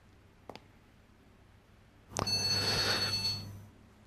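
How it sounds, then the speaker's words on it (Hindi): A telephone rings in an indoor room, a single bright trilling ring lasting about a second and a half after a brief click, fairly faint and with no one talking. "वो आपका फोन बज रहा है।"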